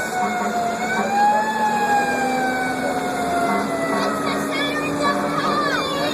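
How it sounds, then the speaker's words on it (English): Fire truck siren wailing during a ride aboard the engine on the way to an emergency call, loud and close, with long rising and falling tones over a low engine rumble. "That's our engine. We're making that noise."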